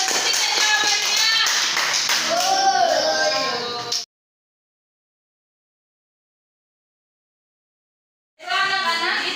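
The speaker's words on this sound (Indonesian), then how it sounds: "Oke, kasih tepuk tangan." Children in a classroom clap together in a burst of applause, then silence falls before the clapping resumes, loud and close throughout.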